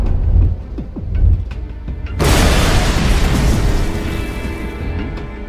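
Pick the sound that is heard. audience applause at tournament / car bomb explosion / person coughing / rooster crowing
car bomb explosion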